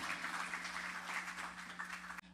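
A church congregation applauds the Lord in a steady, dense wash of clapping that holds for about two seconds before cutting off abruptly.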